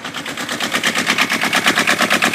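Kubota engine running again after rocker arm adjustment, giving a loud, close, evenly spaced rapid chugging pulse with no talk over it.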